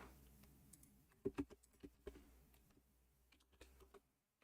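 Soft, irregular keystrokes tap on a computer keyboard during a game session, a handful of distinct clicks spread over a few seconds before falling quiet.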